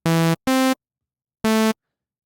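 Three bursts of a buzzy, harmonically rich Reese bass synth preset in Serum, two quick ones back to back, a pause, then a third, clean and loud with no talking.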